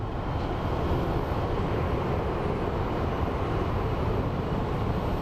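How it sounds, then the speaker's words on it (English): An Airbus A321 jet departs Phoenix Sky Harbor airport, giving a steady, broadband engine roar that stays loud and even throughout with no voices. "we have an A321 departing as well"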